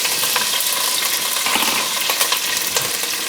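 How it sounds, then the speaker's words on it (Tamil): Curry leaves and mustard seeds crackling loudly in hot oil, a dense, continuous hiss with sharp popping spatters throughout, close and alone. "கடுகு நல்லா பொரிஞ்ச உடனே கருவேப்பிலை கொஞ்சம் சேர்த்துக்கலாம்."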